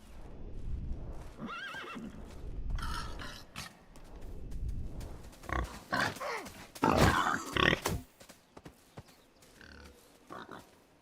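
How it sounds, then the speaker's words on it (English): Pigs grunt and squeal in the video game Medieval Dynasty, with loud overlapping animal calls that peak in a noisy flurry partway through before fading to scattered sounds. "Kill a couple of piggies."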